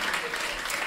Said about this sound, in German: Hey, ein Applaus für Markus und die Frau, ja, die auch einen Namen hat.